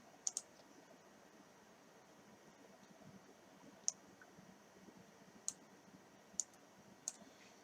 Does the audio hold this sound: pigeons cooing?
no